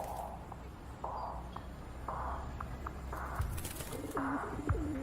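A pigeon coos repeatedly in a game trailer, soft rounded calls coming in a steady rhythm of short phrases over a quiet background, with faint footsteps and a voice murmuring now and then.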